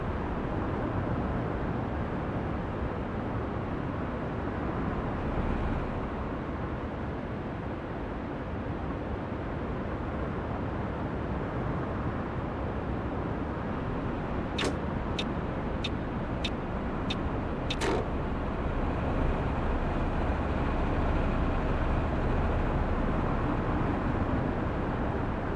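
Road traffic in the Fernbus bus simulator game: a steady broadband rumble of vehicles moving off and gathering speed, a continuous wash of engine and road noise with a few brief clicks partway through.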